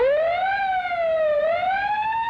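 A wailing siren rises and falls in pitch, loud and close, sounding continuously without any voices.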